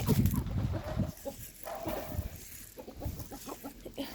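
Hens cluck in a series of short, choppy calls close by, with rustling and low background noise between them, at feeding time.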